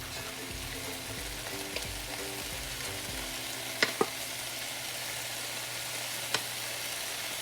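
Ingredients for fried rice stir-frying in a pan, a steady moderate sizzle with a low rumbling underneath and a few sharp spatula clacks against the pan, close by and with no voices.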